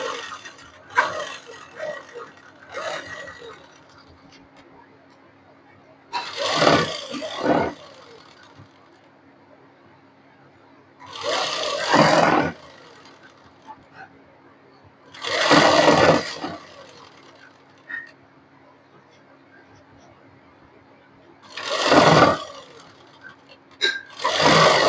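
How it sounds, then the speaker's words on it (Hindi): Sewing machine stitching the edge of palazzo pants, running in several separate bursts of whirring needle drive with quiet pauses between them, each run a few seconds long and close by. "किनारे पे सिलाई लगाएंगे इसको।"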